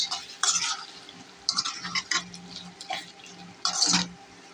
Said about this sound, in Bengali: এখন একটু নাড়া দিয়ে রাখবো, শেষ।